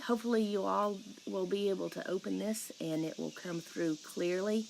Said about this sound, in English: so if you hear the cicadas in the background, that's what that is.